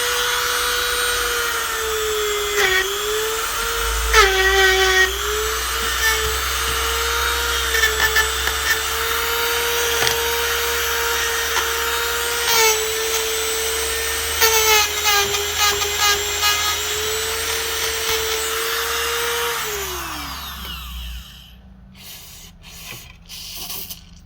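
A Dremel rotary tool whines steadily at high speed, bogging slightly as it scours thick grease off a Polaris carburetor, then spins down near the end, leaving a few brief clicks and handling noises.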